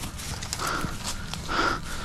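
Rapid hoof-like thumping as a chupacabra runs around nearby in a video game, with snorting breaths over a busy background.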